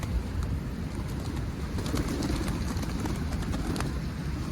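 Wild pigeons coo softly outdoors over a constant rumbling background of traffic or wind.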